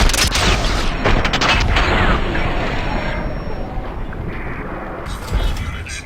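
A futuristic energy weapon in Fallout 3 blasts a Robobrain robot apart: a loud, dense crackling burst with sharp crashes in the opening seconds, then a long rumbling, hissing decay and another thump near the end.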